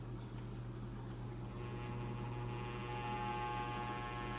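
A floor fan that is being worked on runs with a steady, faint electrical hum and soft whirring drone, continuous and unchanging from start to end.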